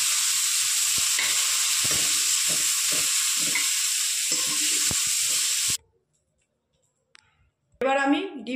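Cauliflower pieces crackle and sizzle steadily in hot oil, with faint clicks and scrapes as they are moved in the pan. The frying cuts off abruptly into silence, and then a voice briefly speaks.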